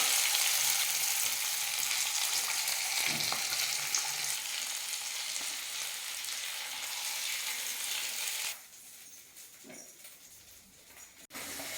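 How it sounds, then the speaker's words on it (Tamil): Fish fries in a pan of oil with a steady, close sizzle. The sizzle drops sharply in volume after about eight seconds as the fish is turned or lifted. "அடுத்த சைடும் அழகாக எசன்ஸ் சேர்ந்து ஃபிஷ் ஃப்ரை ரெடி ஆகிடுச்சு"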